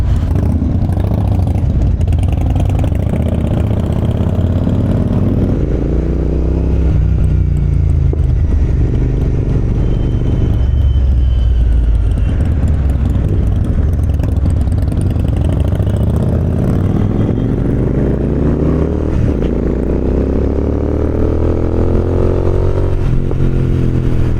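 A Harley-Davidson motorcycle engine idling with a deep, steady rumble, rising and falling through several revs, loud and close throughout without talk.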